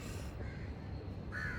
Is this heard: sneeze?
no